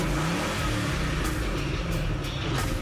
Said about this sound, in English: that exhaust noise, that burble, that rumble. It's the classic American V8 noise.